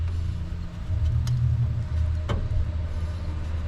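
A 1966 Pontiac Bonneville wagon engine is cranked over with all spark plugs removed, a low, even mechanical rumble with no compression beats, joined by a couple of short metallic clicks, close and without speech.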